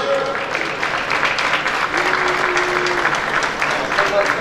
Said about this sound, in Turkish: Birleşik Devletleri'ni alkışlıyoruz efendim